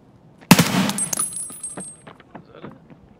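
A single sharp gunshot cracks out in a video game on the Customs map, loud and close, followed by a short ringing echo and a faint clattering tail with no talking.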